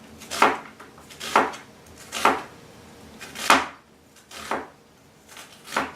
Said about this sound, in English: So just peel the onion, and then I'm going to leave the onion in slices.